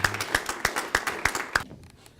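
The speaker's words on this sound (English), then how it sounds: "Give them a hand of applause" A few people give the gospel singers a brief hand, with about six spaced, separate claps ringing in a roomy hall before the sound dies away.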